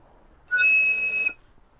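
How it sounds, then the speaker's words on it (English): A homemade slide whistle gives one loud, steady, high-pitched shrill tone lasting under a second, sounding alone between quiet pauses. "we do get that high pitched sound which I found with the longer whistles"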